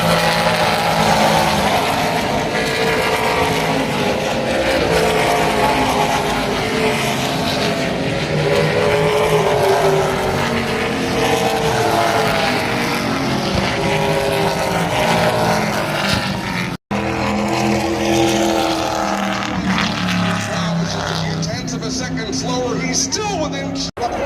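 NASCAR Pinty's Series race cars roar past on the track at Canadian Tire Motorsport Park in Bowmanville, Ontario, a loud, sustained engine wail with shifting pitch as the field passes, with crowd noise and talk mixed in.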